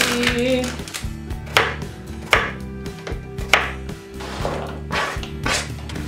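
A knife chops cucumber on a board in quick, irregular bursts of sharp knocks, close and loud, with no talk over it.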